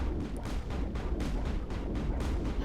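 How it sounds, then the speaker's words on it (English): Rapid gunfire in the Mass Effect video game: a quick, regular string of shots that repeats about every quarter second. The firing is at moderate level with no talking. "How are you shooting me out of the side of your gun?"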